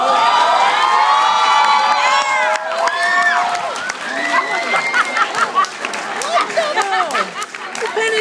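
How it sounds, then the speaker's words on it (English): An audience at an empowerment presentation claps and cheers, a loud mass of shouts and applause that peaks early and then thins into scattered clapping and chatter. "Please give us a round of applause."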